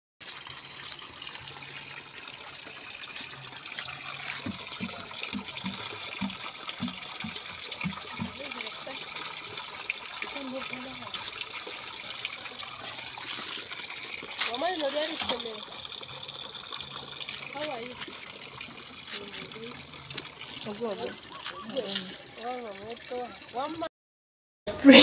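Water flowing at a village spring where people fetch water, a continuous splashing trickle and gush heard throughout, with voices talking over it at times.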